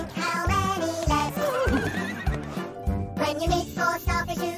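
Cartoon horses whinny and neigh over bouncy counting-song music, with rhythmic hoof clip-clops and light jingles keeping time throughout, fairly loud and continuous.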